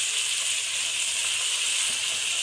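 Chopped cabbage and tomato frying in a pan for a Bengali vegetable soup, giving a steady, close, even sizzle with a bright hiss that carries on unbroken.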